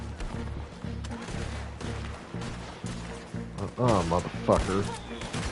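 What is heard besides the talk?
gunshots in video game Red Dead Redemption 2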